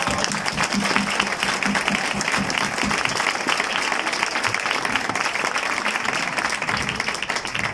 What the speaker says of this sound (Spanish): Quiero pedir un aplauso para esta maravillosa familia.